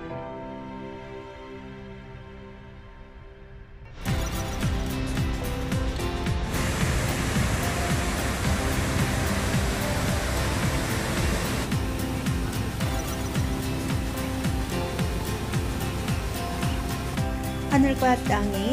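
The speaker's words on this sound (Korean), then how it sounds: "금방 폭포가 나옵니다." Cheonjeyeon waterfall on Jeju Island, at the top of a gentle valley walk: a dense, steady roar of falling water surges in after a few quiet seconds and stays loud and continuous, with faint music underneath.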